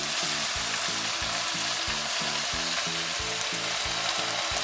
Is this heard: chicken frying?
yes